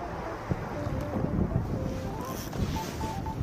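Wind gusts buffet the microphone at a seaside spot used for walking rockfish lure fishing, a steady, rough rush with a few sharper thumps.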